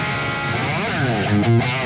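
Electric guitar played dry with no delay, a driven, distorted tone, sustained notes and a bending phrase ringing steadily and fairly loud, alone.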